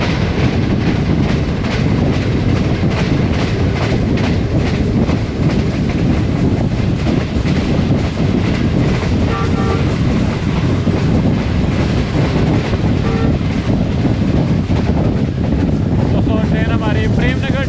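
The Pak Business Express runs fast on rails behind a Chinese-built locomotive between Bahawalpur and Lahore, a loud continuous rumble and roar with a steady clickety-clack of wheels and wind buffeting throughout.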